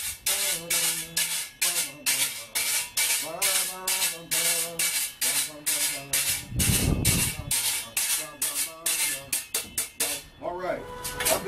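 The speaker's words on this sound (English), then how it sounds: "We have so many different instruments. We have the scraper." A scraper percussion instrument is played in steady rhythmic rasping strokes, with music and voices around it.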